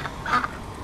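A duck gives a single short honking quack, close and fairly loud, in an outdoor bush setting with faint background noise.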